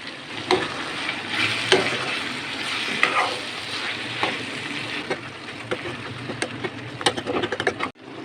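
Bitter gourd (karela) sizzles and fries in a pan as it is stirred, with continuous crackling and repeated scraping strokes of the spoon, close and fairly loud, with no voices.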